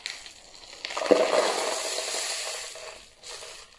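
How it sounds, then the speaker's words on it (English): Dry rice and pasta pour into a homemade shaker, a soft rattling, rustling trickle that rises near the start, runs for a few seconds, and then fades, heard close and fairly quiet. "Now what we need to do is pour in the rice and pasta."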